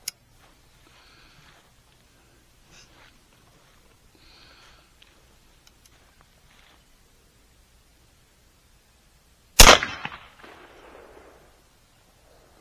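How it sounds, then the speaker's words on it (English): A single sharp report from an air gun fired at a target 555 yards away on a hunting preserve, one loud close crack after near silence, followed by a brief fading tail and faint rustling. "we're back here again shooting long range"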